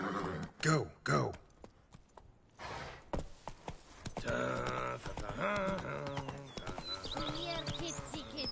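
Horse hooves clip-clopping in The Witcher 3, a rhythmic run of hoofbeats with a neigh, followed by a stretch of game sound and a voice talking over it.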